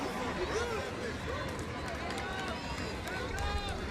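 A college football stadium crowd at South Dakota vs Southern Illinois keeps up a steady, restless murmur throughout, with a commentator's voice talking over the roar.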